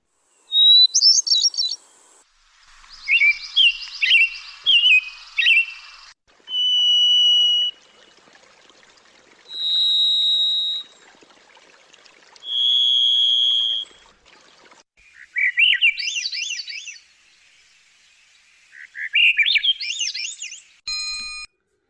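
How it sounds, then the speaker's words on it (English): A sequence of clear, separate songs of hermit thrush, American robin, varied thrush and Swainson's thrush: flutey spiraling phrases, buzzy single whistled tones, and ethereal rising phrases, each set apart by short silences. "That was the hermit thrush, the American robin, the varied thrush, and the Swainson's thrush."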